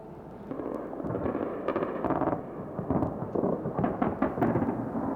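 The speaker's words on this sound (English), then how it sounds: "The city's air defense batteries fired into the sky, more in defiance than anything else." Anti-aircraft air defense guns fire over a city at night in distant bursts of irregular thuds and crackling rattles that rise and fall through the stretch, with no speech.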